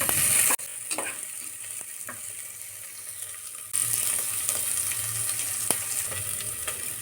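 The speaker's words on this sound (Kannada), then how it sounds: "ಸ್ವಲ್ಪ ಫ್ರೈ ಮಾಡ್ಕೊಳ್ಳೋಣ." Chopped onion frying in hot oil in a pan, a soft continuous sizzle with faint stirring clinks, quiet and steady, briefly louder toward the end.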